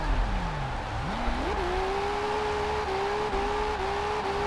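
A racing car engine in Forza Horizon 4 revs and climbs in pitch, then holds a steady high drone with small shifts, continuous and fairly loud, with no talking.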